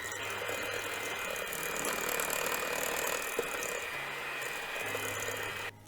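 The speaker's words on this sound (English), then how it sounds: "We'll use the hand mixer for this" An electric hand mixer beats granulated and brown sugar, a steady close whirring and rattling drone that runs unbroken for several seconds before cutting off at the end.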